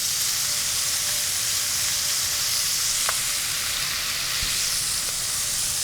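Pork browning in a single layer in a Dutch oven, a steady dense sizzle and crackle with a couple of faint clinks, close and continuous.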